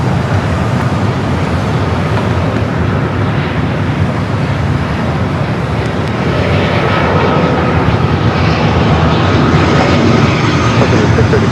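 An airliner landing at Los Angeles LAX gives off a loud, sustained engine roar that holds steady throughout, mixed with a broad wash of airport noise.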